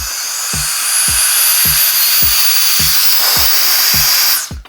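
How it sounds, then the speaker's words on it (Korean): An HPT JG-135 cordless mini blower, fist-sized with a thin metal fan, runs with a loud steady high-pitched whine and rushing air, plus rhythmic low thumps, then cuts off at the end. "이게 송풍기예요. 딱 주먹만 하죠. 제 손에 딱 들어오는 사이즈인데 굉장히 강력합니다."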